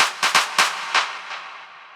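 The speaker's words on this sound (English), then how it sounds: "And then we also have another clap fill here." A layered clap fill sample in Ableton for melodic house: a quick, uneven burst of sharp claps that grow softer, each trailing into a fading echo tail.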